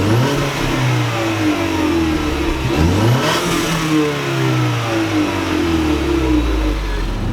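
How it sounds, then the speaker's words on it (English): A turbocharged 2018 Ford Mustang EcoBoost engine revs and pulls, its rising whoosh of turbo induction noise sweeping up and down over a steady mechanical drone. "you do have this nice induction noise from the turbo, if you guys can hear that right there"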